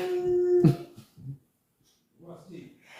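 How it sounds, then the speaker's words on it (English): Two pet dogs howl and whimper nearby indoors, a long rising howl followed by softer whines and yelps in short bursts. "My dogs are crying"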